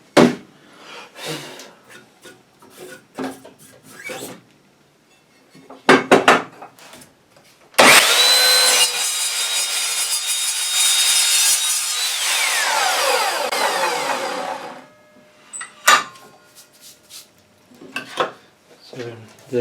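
An Evolution Rage 3S saw cold-cuts through angle iron: a loud, continuous, harsh cutting roar lasting about seven seconds, preceded and followed by people talking and some workshop handling noises.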